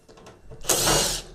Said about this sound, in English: So you undo that one, and you undo that one, and then there's 4 screws along the front.